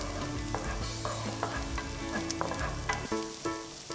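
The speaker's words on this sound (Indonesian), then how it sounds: "Nah, kita masukin bawang putih. Kalau udah kita masukin bawang merah. Ini kita mau tumis sebentar sampai dia layu ya." Garlic and shallots sizzle steadily in a hot pan while being sautéed, with sharp, irregular clinks and scrapes of a utensil stirring close up.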